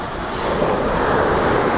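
Steady roar of surf breaking on a white-sand beach below red cliffs, mixed with wind buffeting the microphone, loud and continuous with no voices.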